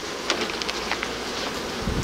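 Honey bees buzzing around an open hive while frames are handled, a soft steady drone with occasional individual bees passing close, quiet and continuous throughout.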